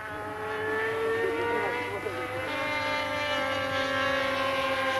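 Remote-controlled model airplanes used for air-combat training drone overhead, their small engines producing a continuous buzzing whine whose pitch bends and shifts as the planes manoeuvre.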